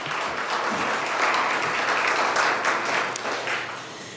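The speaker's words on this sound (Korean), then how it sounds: "주께 박수 드리겠습니다." A church congregation clapping together after a sermon, a full, even roar of applause that swells slightly and then tapers off toward the end, with no voices over it.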